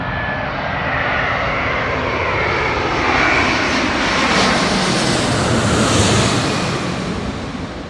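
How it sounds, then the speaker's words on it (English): Virgin Atlantic Airbus A330 jet at Heathrow, its engines giving a broad, loud roar that swells and fades slightly over several seconds as it passes, with no voices. "just behind it is Virgin Atlantic's A330"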